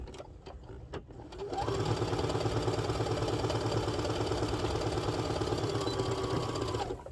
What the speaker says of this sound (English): I'm just going to use my sewing machine today because most people have a sewing machine.